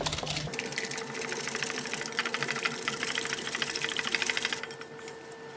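An electric mixer whisks dough ingredients with salt and vanilla for raisin buns. Its close, steady, rattling motor whir starts abruptly, runs continuously for about four seconds, then cuts off.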